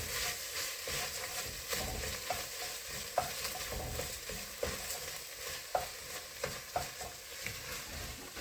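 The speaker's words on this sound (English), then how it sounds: "I'm just going to give that a stir and get everything incorporated" Chopped vegetables and tomato paste get stirred in a pot for a smoky vegetarian chili, with regular spoon scrapes and clicks over a soft, steady sizzle.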